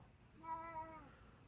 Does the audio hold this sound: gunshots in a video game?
no